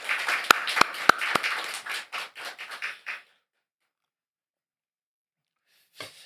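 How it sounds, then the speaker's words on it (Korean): A church congregation claps for the choir, several sharp, loud claps up front, then a quick burst of scattered clapping that thins out and stops after about three seconds, followed by silence and one faint late noise. "우리 찬양대에게는 격려의 마음을 담아서 크게 박수 한번 할까요?"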